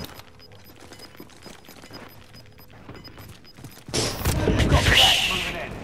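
Call of Duty: Modern Warfare gunfire erupts after several seconds of quiet mechanical clicks, a loud burst of shots and crashing impact close by, with people talking in the background.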